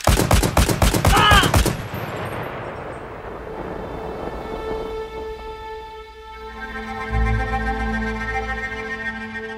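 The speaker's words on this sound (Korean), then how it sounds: "여러 발의 총소리가 울리고 군중들의 소리는 일순간에 고요해지며 깊은 정적에 잠겼다" Several gunshots fired into a crowd crack in a rapid, closely spaced volley that ends abruptly, followed by a tense, hushed ambience with a lingering low tone and music-like sustained notes.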